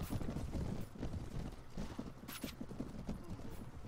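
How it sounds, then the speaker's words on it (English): Horse hooves clip-clop in the Mount and Blade video game, a quick continuous rhythm of fairly close hoofbeats that runs throughout with no talk over it. "my horse is incredibly slow"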